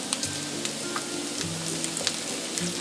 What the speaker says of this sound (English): now we're just going to fry it until the carrots start to change color